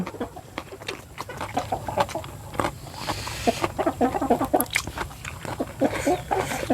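Chickens clucking close by in a rural home setting, a busy run of short irregular clucks and pecking sounds over soft background noise.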